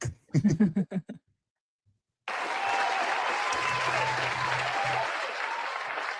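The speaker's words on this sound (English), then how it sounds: "My sound effects, you can hear them, right?" Crowd cheering and applause sound effect at a game-day fan broadcast, rising suddenly after a short burst of speech and a pause, then holding as a loud, dense, steady roar for several seconds.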